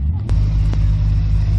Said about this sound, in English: something revving up in the background. I'm not quite sure what it is. It's probably the Renault Laguna.